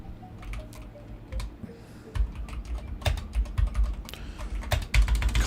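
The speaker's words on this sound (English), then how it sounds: "Can't spell on this keyboard because the damn keys are in a different place." Rapid typing on a computer keyboard, a quick irregular run of light clicks and clacks that grows busier and slightly louder partway through, close and alone with no talking.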